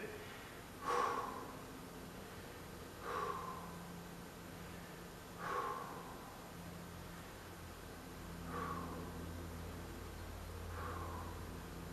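Breath pushed out in several sharp, audible bursts during a lower-body workout, spaced a few seconds apart over a steady hiss of background noise.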